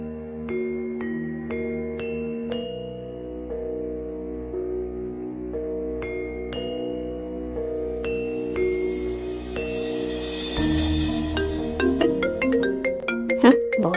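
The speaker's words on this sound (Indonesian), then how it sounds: "Enak gak ya kalau gua telepon Gita?" A phone ringtone plays during an outgoing call, a steady melodic tone with repeated chime-like notes, fairly loud and alone with no talking.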